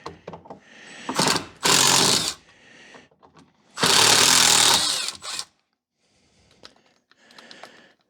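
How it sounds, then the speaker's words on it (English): A power drill backs screws out of a repurposed shop cabinet in two loud whirring bursts, each about a second or more long, with quieter handling clicks and knocks between and after them. "Take out these screws that were really hard to put in."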